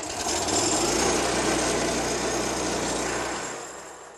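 An EDCO C-10 8-inch crack chaser saw's gas engine starts and runs steadily, a loud, close, continuous buzzing engine drone that holds level for several seconds before easing off slightly at the end.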